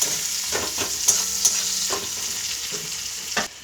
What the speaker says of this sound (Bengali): পেঁয়াজ দিয়ে দিচ্ছি পেঁয়াজটা আমি এবারে একটু ভেজে নেব ভালো করে